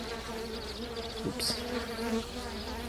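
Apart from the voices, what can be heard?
young honey bees buzzing around a hive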